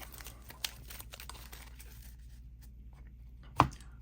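Marvel Champions playing cards being shuffled: a soft, steady papery rustle at close range, with a quick snap early on and a sharper card slap near the end.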